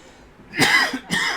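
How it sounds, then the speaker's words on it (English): Two sharp coughs ring out close by, the second shorter than the first, with no talking around them. "Dang, it's freaking cough."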